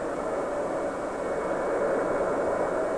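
A jet aircraft flies in straight, level flight at constant speed, giving a steady, even roar that holds without change, with no voices.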